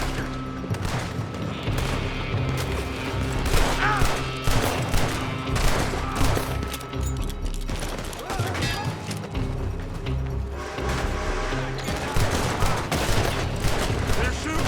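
Rapid gunfire crackles through a shootout in Red Dead Redemption 2, with overlapping shots and bursts near and far that continue without a break under shouted voices.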